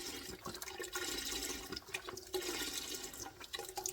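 Beef broth pours steadily from a 48-ounce carton into a soup pot, a continuous close gurgling splash of liquid lasting throughout with slight fluctuations as the flow continues.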